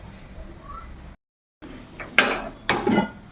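A metal kadai wok set down on a gas stove, two sharp clanks close by after a brief pause, with faint room noise before.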